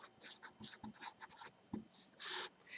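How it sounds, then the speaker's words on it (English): Writing on a board during a math lecture on rational functions: quick, scratchy strokes in short bursts with brief pauses, ending in one longer stroke, close and clear. "I want to write a note."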